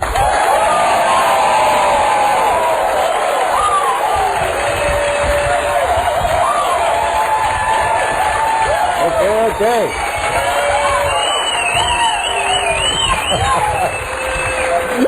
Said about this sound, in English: Very enthusiastic crowd.